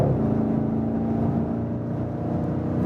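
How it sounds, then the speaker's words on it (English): Exhaust of a 2019 BMW M550i G30 in sport mode, a deep steady engine drone holding at a constant loud level from inside the car while cruising at speed. "Sport mode means we hear more from the exhaust."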